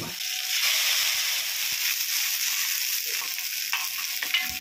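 Onion, ginger and garlic paste with cumin frying in mustard oil, a steady bright hiss with faint stirring taps now and then.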